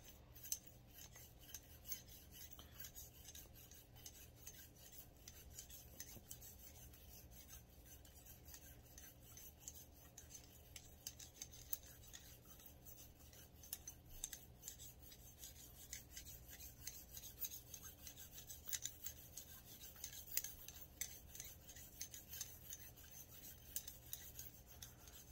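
A bore brush scrubs back and forth through the barrel of a Smith & Wesson M&P40 pistol, a continuous faint rasping and scratching that runs steadily and close, without speech.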